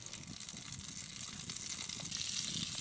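Bacon sizzles and crackles steadily in a pan over a coal fire, a dense, close frying hiss with no voices.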